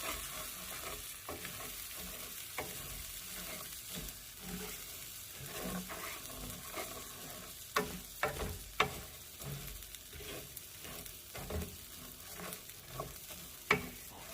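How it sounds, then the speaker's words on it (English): Dry rice toasting in a pan over medium to medium-low heat, a faint quiet sizzle broken by light scraping and stirring clicks that grow sharper toward the end, no voices. "I'm going to toast this over a medium to medium low heat"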